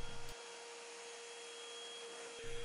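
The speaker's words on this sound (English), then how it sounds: "You can see it sucking up into the tank there, flying around, and it's made quick work of it." A Novete VT-DH001 handheld vacuum cleaner sucks up water into its tank, a loud steady whining motor drone with a constant tone, starting and stopping abruptly at each end.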